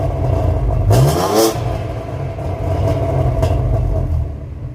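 A BMW G80 M3 Competition engine with exhaust valves closed revs up loudly once, then settles into a steady, muffled rumble with a couple of lighter blips.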